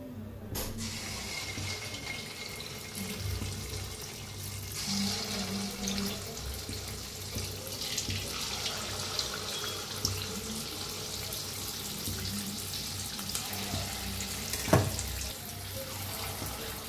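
Pakoras of rice-flour batter are dropped into hot oil and fry with a steady, broad, watery crackle and hiss, with a sharp clink near the end.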